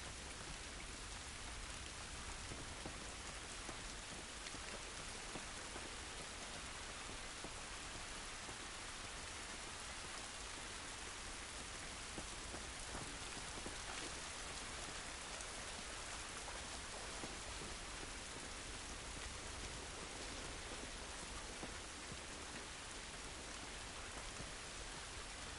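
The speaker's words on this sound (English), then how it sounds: "This rain ain't gonna do us any good." Rain in The Last of Us video game, a steady broadband hiss of falling rain with soft patter on surfaces, even and unbroken for the whole stretch, with no clear talk over it.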